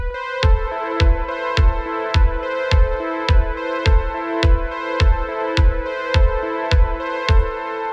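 Synthwave backing track, its sustained synth pad ducking and swelling back with each kick drum hit in steady four-on-the-floor pulses, loud and continuous with no voices.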